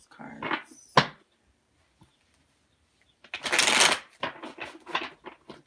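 Tarot-style reading cards shuffled in short riffling bursts, one quick flurry early, a pause, then a louder dense shuffle followed by several softer riffles, close up with no talking.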